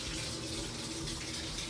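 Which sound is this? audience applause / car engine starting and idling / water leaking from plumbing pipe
water leaking from plumbing pipe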